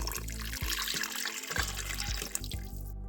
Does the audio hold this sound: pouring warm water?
yes